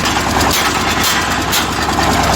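A loud, close tractor engine drones steadily under heavy load after repair, a continuous strained rumble with no pauses.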